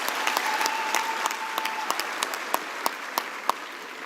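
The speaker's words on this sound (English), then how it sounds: "Let us give her another warm round of applause." An audience at an evening university graduation ceremony gives a keynote speaker a warm round of applause, with steady, dense clapping that thins into scattered individual claps.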